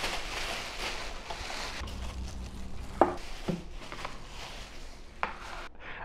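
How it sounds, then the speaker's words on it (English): Parts of a Ceado E5SD espresso grinder being unwrapped from paper packaging, with soft rustling and crinkling plus a few sharp clicks and knocks, close and fairly quiet, no talking. "Let's get these out of their packaging."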